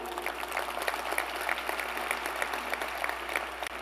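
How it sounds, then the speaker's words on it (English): Audience at a State of the City address applauds steadily for a few seconds, a dense even patter of many hands, moderately faint with no voices on top. "Did TCC start the clapping?"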